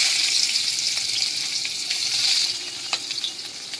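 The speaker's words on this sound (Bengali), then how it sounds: "দিয়ে ওই ফোড়নের উপরে আমি পেঁয়াজটাকে ভালো করে ভেজে" Onions fry in hot oil over cinnamon, cardamom and dried chilli, making a loud, bright sizzle that softens near the end, with a few faint stirring taps.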